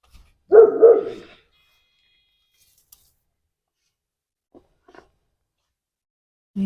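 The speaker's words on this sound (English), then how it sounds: "Damn dog." A dog outdoors by a backyard vegetable garden barks twice in quick succession, loud and fairly close, followed by a long near-silence with a few faint ticks and a brief sound at the very end.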